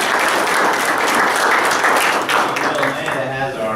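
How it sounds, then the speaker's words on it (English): A Rotary Club meeting audience applauds, a thick wash of clapping hands that stays loud and even throughout, tapering a little toward the close. "Give them a round of applause"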